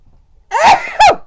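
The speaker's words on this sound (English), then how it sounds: "Stop to sneeze." A single loud, close sneeze with a sharp inhaled build-up and a forceful burst, in an otherwise quiet room.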